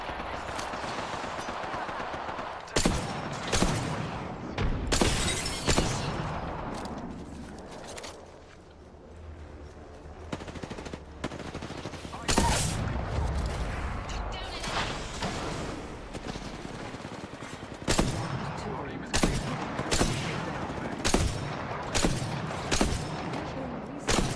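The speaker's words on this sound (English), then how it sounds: "Firing on enemies." Video game gunfire rattles in repeated sharp bursts with pauses between them, loud and close, alongside occasional other game effects.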